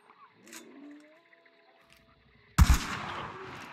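A single sharp sniper rifle shot in Hunt: Showdown cracks out loud and close after a stretch of faint ambient game sound, followed by a rumbling tail that slowly fades.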